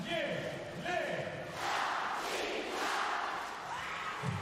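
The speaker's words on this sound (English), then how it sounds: "Daniele Lavia gets the plaudits of the crowd" Crowd noise from spectators at a EuroVolley 2023 quarterfinal volleyball match between Italy and the Netherlands, a broad steady roar of cheering and applause that swells in waves, with a commentator speaking over it.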